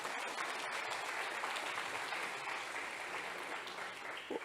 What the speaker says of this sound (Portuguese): Aplaude o teu Deus, a igreja aplaude.